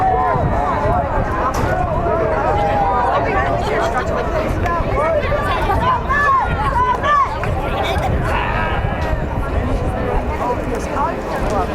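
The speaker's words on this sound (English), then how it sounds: "Crowd is furious of a non-call." An agitated crowd at a youth soccer match, loud continuous shouting and babble of many voices throughout, with a commentator talking over it.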